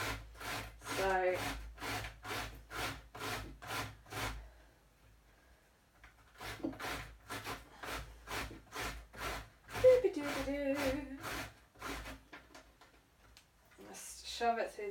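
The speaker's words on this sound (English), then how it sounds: "just shove it through the grater" A courgette is coarsely grated on a pyramid grater in rhythmic rasping strokes, close and fairly quiet, in two runs with a brief pause between them and a voice speaking in places.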